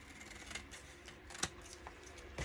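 Scissors or a blade cutting paper for a vintage-style journal, heard as quiet, steady snipping and rasping with a few sharper clicks near the end, close by and alone with no talk.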